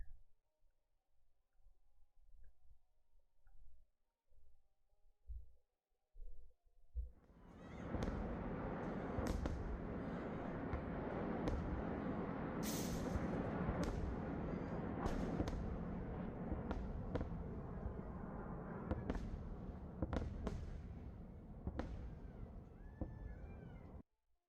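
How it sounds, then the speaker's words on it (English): Iron Dome interceptions during a rocket barrage: after a quiet stretch of scattered pops, a sustained roar of overlapping booms and sharp cracks sets in and continues loudly, with a few distinct bursts standing out. "this is the Iron Dome intercepting rocket barrage fire"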